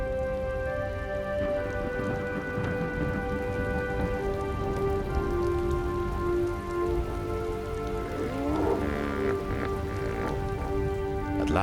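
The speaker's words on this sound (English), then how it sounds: "The rains fall sporadically as they head across the plains." Steady rain falling across open plains in Botswana, a dense, even hiss of drops striking the ground that stays loud and unbroken throughout, with no voices.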